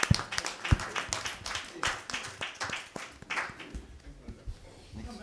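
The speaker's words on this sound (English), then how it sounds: "I think he requires a round lot of applause for us." An audience at an ophthalmology conference session claps for a doctor, with scattered, uneven claps at moderate volume that thin out toward the end.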